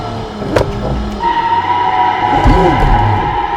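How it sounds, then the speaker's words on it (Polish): Petrol engine of a Mercedes W124 in the BeamNG.drive driving game, revving and pulling with an automatic gearbox, a steady mid-loud engine drone with rising and falling pitch sweeps near the end. "zobaczmy jak to jeździ silnikiem benzynowym"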